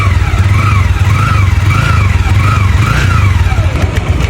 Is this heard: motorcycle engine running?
yes